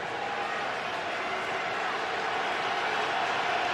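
Steady, roaring wash of stadium crowd noise at a 2004 NFL game between the Patriots and Steelers, dense and unbroken throughout, with a broadcaster talking over it.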